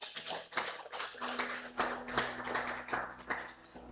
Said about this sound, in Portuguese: Quem está entendendo, aplaude ao Senhor Jesus.